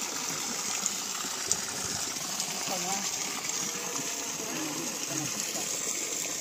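Water gushes in a steady, full rush from a solar DC BLDC motor pump run off a single 410 W panel in a nursery garden, with faint voices underneath.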